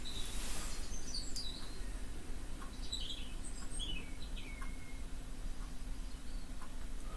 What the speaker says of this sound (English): We have some sound effects here of destruction, followed by a meadow and tweeting birds.